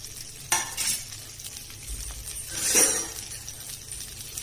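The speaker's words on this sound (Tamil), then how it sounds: "ஆயில் காஞ்செடுத்து வெண்டைக்காய் போட்டு வதக்கணும்" Okra sautés in hot oil with salt, a close crackling sizzle with a couple of louder bursts of stirring and light metallic clinks of a spoon against the pan.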